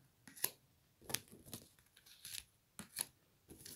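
Tarot cards are drawn and handled in quick bursts of crisp shuffling, sliding and snapping, close-up with short pauses between each rustle.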